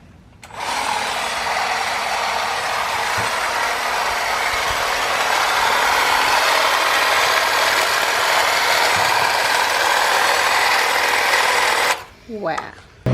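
A Stihl HSA 45 battery hedge trimmer cuts along the top of a hedge, its loud, steady buzzing chatter running for about eleven seconds before cutting off, followed by a brief voice.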